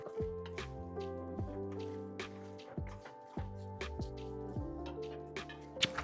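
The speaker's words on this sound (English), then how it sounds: "Now to stir my mushrooms. I don't want my beef to clump together. That's why I'm stirring it so much." Ground beef and mushrooms stirred in a pan, with wet squishing and sizzling scrapes recurring in short irregular bursts, close and moderately loud.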